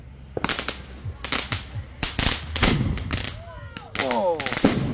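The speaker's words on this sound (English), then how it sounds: "Mortar." Fourth of July fireworks mortar shells fire and burst in a rapid series of loud, sharp booms and cracks, close by, with crackling and whistling effects near the end and brief talk between blasts.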